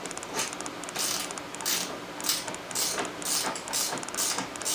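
A wrench turns the ball joint nut on a 2003 Ski-doo MXZ snowmobile, giving a close, quiet run of rhythmic ratcheting clicks in quick repeated strokes.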